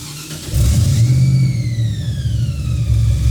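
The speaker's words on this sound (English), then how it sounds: "This is full Gibson exhaust. It is muffled." A 900 hp supercharged six-wheel Chevy C10 with a muffled Gibson exhaust rumbles close by, its deep idle swelling as the engine revs up with a rising whine.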